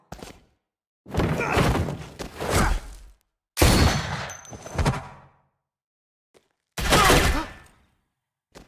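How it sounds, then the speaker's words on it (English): Bursts of heavy gunfire and impacts from the video game The Walking Dead: A New Frontier come in several loud clusters separated by silent gaps, with metallic clangs mixed in. "I hear gunfire."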